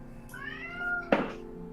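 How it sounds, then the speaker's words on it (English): A house cat lets out one drawn-out meow that rises and then falls, clear and close. A brief sharp knock follows right after, then quiet. "That's my cat, sir."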